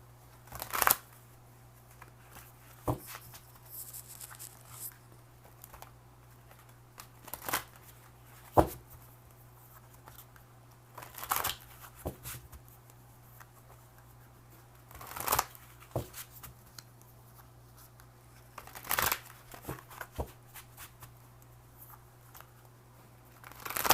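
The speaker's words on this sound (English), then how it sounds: "I'm going to go ahead and shuffle general love cards" Tarot cards are shuffled in quiet bursts of riffling and tapping, spaced out with short pauses under a faint steady hum.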